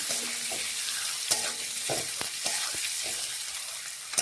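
Eggs coated in salt and turmeric fry in hot oil with a steady sizzle, punctuated by repeated clinks and scrapes as a spatula stirs and turns them in the pan.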